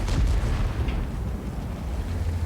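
A Super Conqueror tank gun fires in the World of Tanks video game, a loud, heavy boom at the start that rolls into a dense rumbling tail which fades only slightly.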